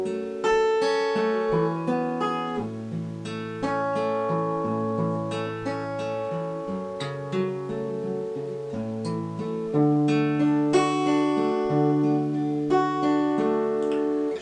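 Fingerpicked acoustic guitar playing the intro of a song, a steady rolling arpeggio pattern with sustained bass notes, close and clear throughout with no talking.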